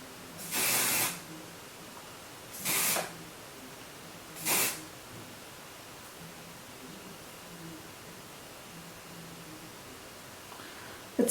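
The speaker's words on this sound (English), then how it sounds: "section the hair and spray from root to the ends" Three separate bursts of volumizing, dry-shampoo-like hair spray, each about a second long, hiss from an aerosol can close up and alone, with quiet gaps between them.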